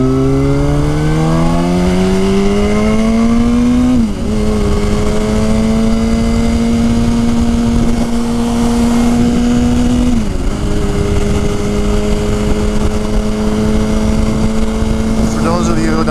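Motorcycle riding through downtown Grand Rapids, a loud close engine drone climbing in pitch through gear shifts and then holding a steady cruise, with wind rushing throughout.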